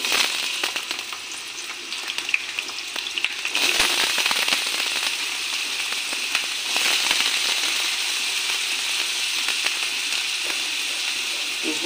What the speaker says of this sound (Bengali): এখন আলুটি ভাজা করে নেব।